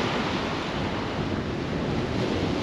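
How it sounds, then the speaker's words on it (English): Strong wind buffets the shore at Skegness during sea fishing, a steady loud roar of gusts and surf that fills the whole stretch without a break and carries no voices. "Could just do with this wind dying off, but it's not happening"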